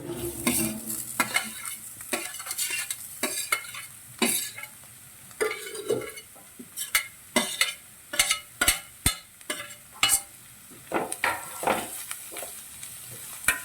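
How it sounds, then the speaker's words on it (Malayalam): Chopped cabbage and carrot sizzle in a hot pan for a thoran while a spoon scrapes and stirs them, giving repeated close, sharp scraping strokes over a steady frying hiss. "അരിഞ്ഞു വെച്ചിരിക്കുന്ന ക്യാബേജും ക്യാരറ്റും കൂടി ഇതിലേക്ക് ആഡ് ചെയ്യുവാണ്."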